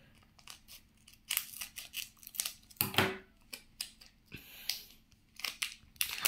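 Opening a Doodle World card tin with cards inside: a run of sharp scraping, rustling and crinkling bursts at close range, with a stronger clatter near the middle and irregular handling noises throughout.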